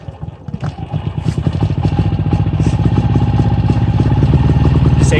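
A Harbor Freight Predator 3500 watt super quiet inverter generator is pull-started and catches, its small engine settling into a steady, loud chugging run that builds slightly over several seconds, close by.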